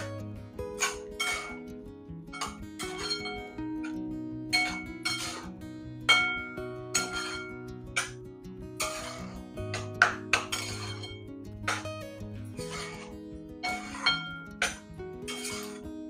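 Motichur boondi mixture stirred in a pan off the heat, a series of metallic scrapes and clinks from the spoon against the pan, uneven and close, over soft background music.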